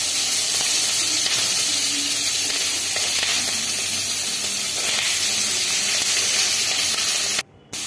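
Fish frying in a pan in a home kitchen, a steady close sizzle and hiss running throughout with no voices, cutting off briefly near the end.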